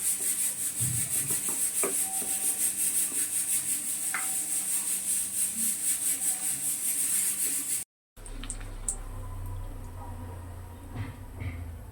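Luchi dough being rolled out with a rolling pin in a home kitchen, a steady rubbing, scraping rasp repeating close by, then a brief break and quieter rolling with a low hum underneath.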